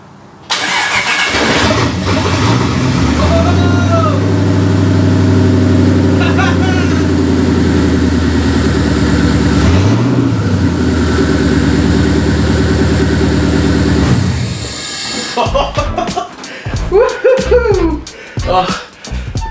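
A Datsun 240Z fitted with a V8 cranks and fires up after sitting unstarted for over seven years, then settles into a steady, loud idle with a brief rev in the middle, before the engine cuts and excited voices take over.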